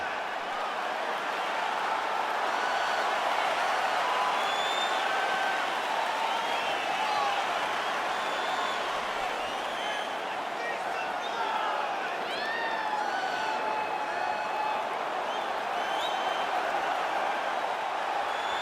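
Sold-out arena crowd in EA Sports UFC 4 cheering and clapping during a flyweight champion's walkout, a broad continuous roar with whistles and shouts rising and falling, under a commentator's voice.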